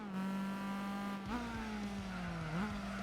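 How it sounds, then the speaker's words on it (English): A sports car engine with a sports exhaust in Gran Turismo 4 drones steadily, then shifts up and climbs in pitch twice. The loud, harmonic exhaust note carries on alone with no voices. "I could take off the exhaust, but it sounds incredible, so I kind of don't want to do that."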